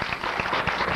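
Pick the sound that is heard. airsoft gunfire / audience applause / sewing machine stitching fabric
audience applause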